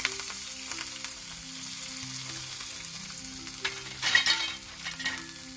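Curry leaves and turmeric powder sizzling in hot oil in a pan, a steady close crackle with a brief louder burst of spitting partway through, and no voices.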